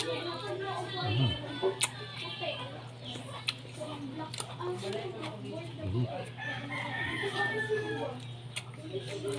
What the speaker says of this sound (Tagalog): mahilig ta sa mga native na manok